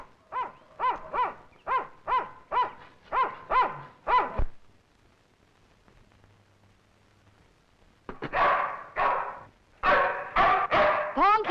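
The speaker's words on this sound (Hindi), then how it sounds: "भौंक ले, जितना जी चाहे भौंक ले।" A dog barks repeatedly in quick bursts, a run of about ten barks, a pause, then another volley, close and fairly loud.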